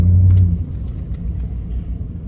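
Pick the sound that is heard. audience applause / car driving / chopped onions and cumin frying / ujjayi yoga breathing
car driving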